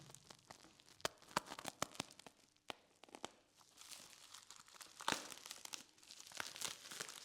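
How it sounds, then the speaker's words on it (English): Bubble wrap is pulled away from oxidiser tank bulkheads in quiet, close crinkling and rustling, with scattered sharp crackles and a louder tearing scrunch partway through. "Just bubble wrap, unwrapping."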